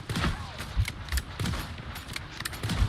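Rapid bursts of gunfire in the hero shooter game Marvel Rivals, repeated sharp shots in quick rhythmic volleys, fairly loud and close, with faint game sounds behind.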